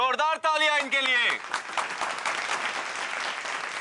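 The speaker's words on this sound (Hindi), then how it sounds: "अच्छा, जोरदार तालियां इनके लिए।" On a television game show stage, a host speaks loudly at first, then the studio audience breaks into strong, sustained applause that continues to the end.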